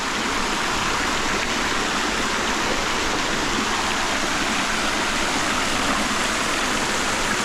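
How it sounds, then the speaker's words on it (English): Water from the Fountain of Life feature in Tupelo, Mississippi rushes and splashes continuously as a loud, even roar with no voices. "Check out this fountain right here."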